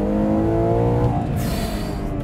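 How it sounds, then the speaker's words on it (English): A Ferrari Purosangue V12 engine downshifts into first gear on a hilly road near Maranello, a steady loud drone with a rising blip midway, heard close from inside the car with no talking. "Downshift into first for the hairpin, up the hills."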